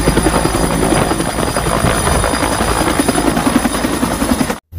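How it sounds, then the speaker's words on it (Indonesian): A toy army helicopter makes a steady rapid chopping of rotors, loud and close, with a constant high mechanical whine, continuing without pause until a brief cut near the end. "Wow, helikopter tentara."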